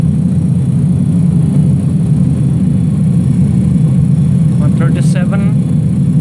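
A Pratt & Whitney JT8D jet engine on a DC-9 in a flight simulator makes a steady, loud low roar that holds without change, with a voice talking briefly over it.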